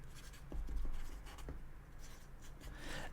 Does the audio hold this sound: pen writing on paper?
yes